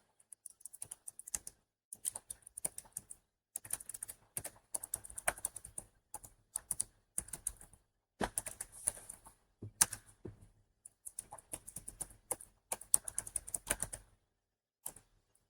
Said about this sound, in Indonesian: Sini kita ketik M.